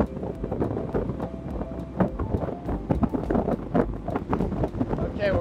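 A Jeanneau NC 1095 flybridge motor boat running at wide open throttle, a steady engine and hull roar mixed with heavy wind buffeting on the microphone, loud and constant throughout.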